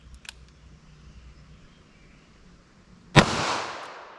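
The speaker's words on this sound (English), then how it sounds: "let's hit that with our 22 Magnum" A single sharp gunshot from a .22 Magnum firearm cracks out near the end, loud and close, with a short ringing decay after it, preceded by quiet ambience and a faint click.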